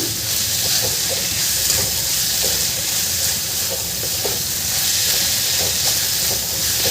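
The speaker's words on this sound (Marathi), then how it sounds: "इथे मी हे छान मिक्स करून घेत आहे मेथी" Fenugreek leaves frying in masala while being stirred, a steady close sizzle and hiss with soft scraping stirs running continuously, no talk.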